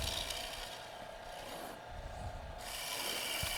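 A woodturning gouge takes a bigger cut into a spinning wooden bowl on a lathe, producing a steady close rasping hiss that dips briefly and then resumes.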